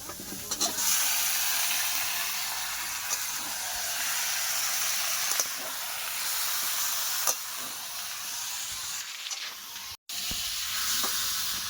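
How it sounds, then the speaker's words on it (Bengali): Meat and potatoes hitting a hot spiced pan on a rural stove, giving a steady, fairly loud sizzle and frying hiss that runs the whole time with a few small stirring knocks. "এবারে যে আলু সমেত মাংস একসাথে দিয়ে দেবো"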